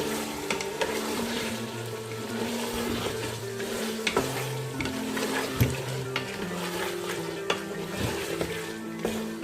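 Chopped potatoes are stirred into chicken keema in a pan, with a steady soft sizzle of frying and occasional scrapes and knocks of the spoon against the pan, over a low background hum.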